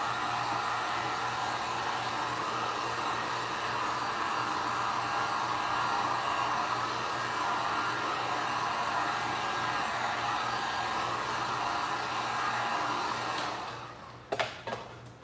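A heat gun blows on resin dominoes with a steady, close airy roar and a low hum for most of the time, then cuts off near the end, leaving a few brief clicks and handling sounds.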